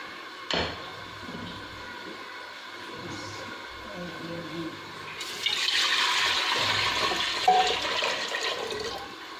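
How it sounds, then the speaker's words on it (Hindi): About 1.5 litres of milk is poured into a cooking pot while making sawayyan. After some quiet kitchen noise, a steady, gushing splash starts midway and runs to the end. "ये इसके लिए मैंने एक पतीला ले लिया है और इसमें अब डालेंगे हम दूध।"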